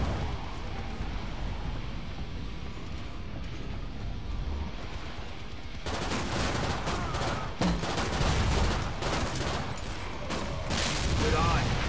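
Gunfire in the zombie shooter Killing Floor 2, with dense bursts of shots that grow louder and more frantic in the second half, mixed with game noise and voices talking over it.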